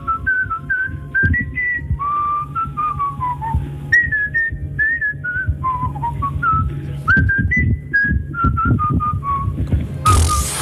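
A person whistles a melody based on a dog training whistle, clear bright notes in short phrases across several seconds, close and alone with no talk, ending in a brief burst of noise.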